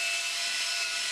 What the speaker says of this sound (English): I just use the polishing tip with some WD-40 to clean the lens first.